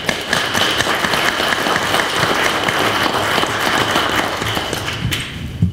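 Audience applause at an inaugural district council meeting in Chetwynd, a dense sustained clapping that fills the room for several seconds before beginning to thin out at the end.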